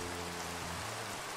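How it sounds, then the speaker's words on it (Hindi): Steady rain falling in the video game Minecraft, a continuous even hiss throughout with low tonal game drones underneath, no voices. "सो अभी हो रही है बारिश मेरे दोस्तों."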